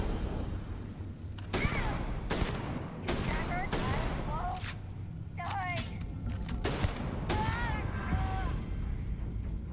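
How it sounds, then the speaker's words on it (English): Gunfire in the Starfield video game: repeated sharp shots and bursts over a dense, loud combat din with whooshing effects, and a person talks over the action. "there's still somebody shooting"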